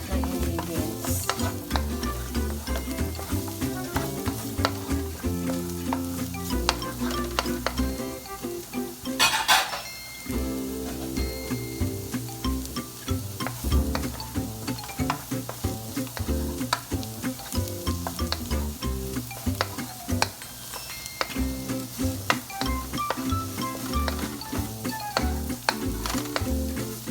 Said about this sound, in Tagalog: Haluin lang natin siya hanggang maluto lahat ng ingredients.